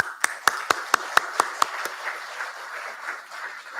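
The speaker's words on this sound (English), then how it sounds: "He's a big man, and really grand applause for him." Applause at an institute day celebration at AIIMS Guwahati: eight sharp, evenly spaced hand claps close by, then a softer, scattered patter of clapping continuing in the background.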